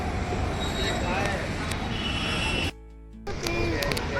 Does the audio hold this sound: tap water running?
no